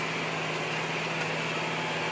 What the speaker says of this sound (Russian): трактор вполне эффективно выезжает